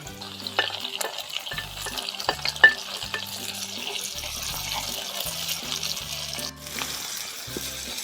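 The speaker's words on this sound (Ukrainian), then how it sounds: "Підрумянили цибульку і будемо додавати перчик." Onion and pepper frying in a sach pan, giving a continuous hiss and sizzle with occasional scrapes and light knocks from stirring, fairly close and with no speech.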